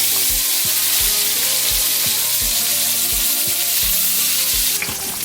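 Fish frying in a pan, a loud, dense, continuous sizzle with faint pops and a hint of rhythmic thumping beneath it, with no talking.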